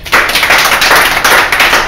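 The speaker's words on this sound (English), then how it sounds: "Let's have a round of applause for Rob Altman" A roomful of people at the Avenue Cafe bursts into loud, close applause for Rob Altman: dense, continuous clapping that starts abruptly and holds steady with slight surges.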